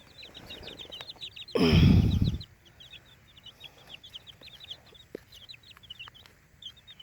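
Chickens cluck and peep continuously at close range, with a brief loud rustling burst early on.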